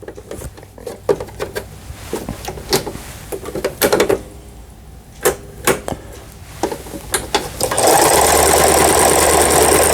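A Toyota Simple 10 sewing machine being tested after repair, first with scattered mechanical clicks and button presses, then running in a loud, steady reverse stitch near the end.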